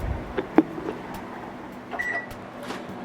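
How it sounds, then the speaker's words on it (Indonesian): A 600 watt microwave oven heating eggplant and okra in a covered heat-proof bowl: a faint low hum with a few soft clicks and knocks, and a short electronic beep near the end. "Panaskan dalam microwave 600 watt selama 6 menit."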